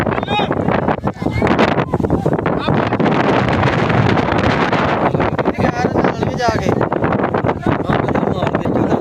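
Strong wind buffets the microphone in a steady, roaring rush across a village cricket ground during a final, with a commentator talking over it throughout.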